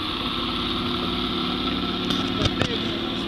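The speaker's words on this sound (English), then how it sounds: "I'll start the engine, it will turn like" A boat engine on a Mongolian river crossing runs at a steady idle, a continuous low mechanical drone with a few brief knocks near the end.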